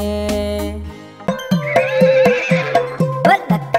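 Horse neighing in a Hindi nursery rhyme, a loud close whinny with rhythmic clip-clop hooves and cheerful music accompanying it, no voices.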